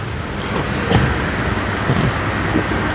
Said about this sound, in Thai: เสียงแบบเครื่องยนต์ทรงพลังมาก